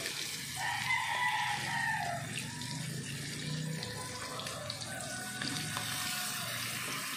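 Bangus (milkfish) frying in hot oil without flour, a steady hissing sizzle with faint popping and spattering throughout, close and moderately loud.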